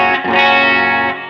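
Electric guitar played through a Quilter SuperBlock US amp on its 57 setting: a single loud, sustained, rich chord rings with slight distortion, then a quick re-strike before it fades out.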